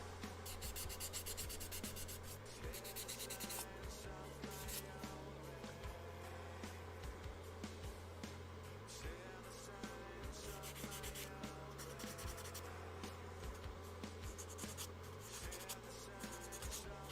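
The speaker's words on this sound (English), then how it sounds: "I feel like I got my fill of sanding." Hand sanding during a charity livestream, a steady scratchy rasp of abrasive strokes rubbing back and forth continuously at close range, with a low hum underneath and no talking.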